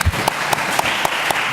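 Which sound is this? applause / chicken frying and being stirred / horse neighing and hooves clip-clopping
applause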